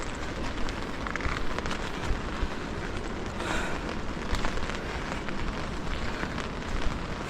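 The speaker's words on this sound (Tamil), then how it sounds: "மழை பெஞ்சே திரும்ப நிற்குது." Steady rain pours down in a Manali hillside area near Jogini waterfalls, a dense, even hiss that stays constant and fairly loud throughout, with no voices.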